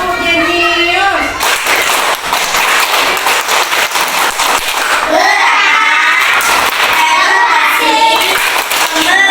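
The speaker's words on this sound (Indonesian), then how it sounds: "coba semuanya tepuk jenius" A group of children in a classroom chant the 'tepuk jenius' clap chant together, clapping in a quick rhythmic pattern, their voices loud and close, with bursts of clapping between chanted phrases.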